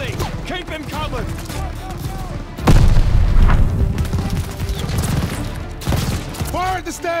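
Gunfire and heavy booms in the Call of Duty Vanguard video game, with bursts of machine gun fire among loud explosions and shouted voices throughout a chaotic battle mix.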